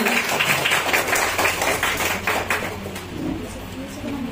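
Hands clapping in a crowd at a prize distribution ceremony at the Sauramita Art Gallery, a brisk continuous patter that fades after a few seconds while a voice carries on talking.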